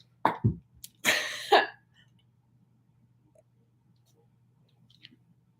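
A couple of short coughs or throat-clearing bursts sound up close, followed by near silence with faint clicks.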